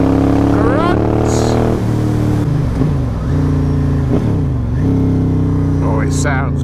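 A motorcycle engine revving loud and close, with steady droning tones that dip and climb through several rises in pitch as the bike accelerates, while a rider talks over it.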